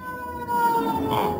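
A siren wails steadily, its pitch holding and then sliding slightly, sounding fairly close and loud.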